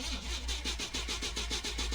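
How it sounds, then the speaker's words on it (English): In a video game, a car engine cranks with a rapid, even rhythm of starter pulses over a low hum. The sound is close and fairly quiet. "Press E to start the engine."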